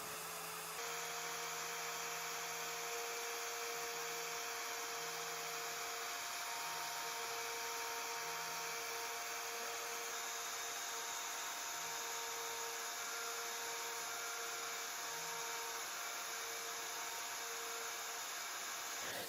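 A NymoLabs NBX-5040 CNC router with a 710 W spindle engraves, a steady high-pitched whine with faint cutting texture running continuously and evenly throughout.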